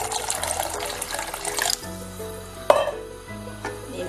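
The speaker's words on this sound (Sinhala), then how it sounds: "මේ විදිහට වතුර එකතු කරගන්නවා." Water pours into a pot of chickpea soup on the stove, a loud, steady splashing rush for under two seconds that then gives way to a quieter simmer with a single sharp clink partway through.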